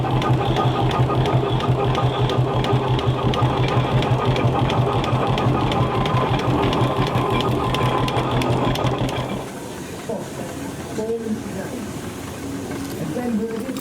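A steam traction engine running at the Quainton rally, giving a rapid, even mechanical chuffing and clatter that stops abruptly after about nine seconds, leaving quieter background noise and distant sounds.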